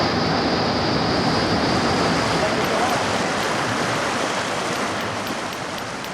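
An underground waterfall cascades inside a cave in China, producing a dense, loud, steady roar of rushing water that fades slightly toward the end.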